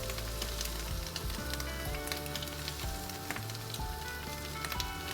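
Carrots and bell pepper frying in a pan for fried rice give a loud, steady close sizzle with faint stirring clatter running through it.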